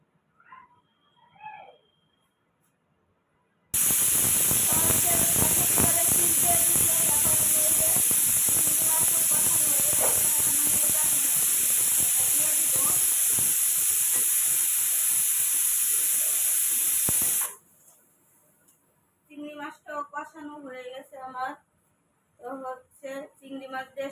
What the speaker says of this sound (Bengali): শশা রান্না করতেছি প্রেসার কুকারে বসাই দিছি